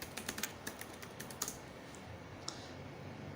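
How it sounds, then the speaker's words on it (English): Password being typed on a computer keyboard, a quick run of light key clicks that thins out into a few scattered taps, quiet and close with no voices. "then their password."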